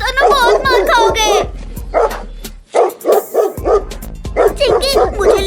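Dogs bark repeatedly and loudly in an outdoor comedy scene, with rapid yapping bursts and excited voices talking over them, a brief pause partway, then more barking alongside speech.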